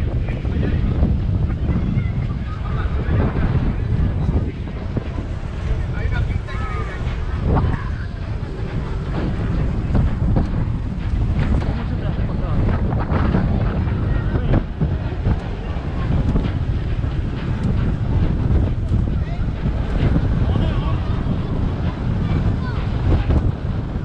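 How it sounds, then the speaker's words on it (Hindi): Strong wind roars steadily across the microphone on a ship's deck at Port Vell, Barcelona, a broad continuous rush with gusty buffeting throughout, with faint voices underneath. "विषम हवा चल रही है"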